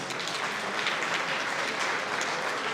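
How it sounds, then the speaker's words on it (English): Steady applause from a crowd at a soccer club Wall of Fame ceremony, a dense wash of clapping that holds at an even, loud level throughout. "Let's give them a great round of applause."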